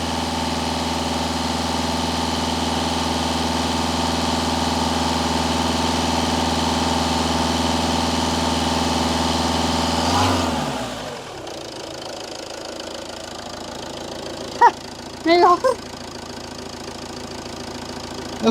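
A 2.0 HDi diesel engine in a Citroen Berlingo runs steadily and loudly with a strong harmonic drone for about ten seconds, then cuts off, leaving quiet background and a few brief faint sounds.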